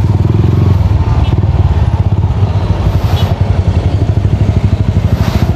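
A bored-up motorcycle engine with an enlarged main carburetor jet runs close by with a loud, steady, rapid exhaust pulse and faint clatter.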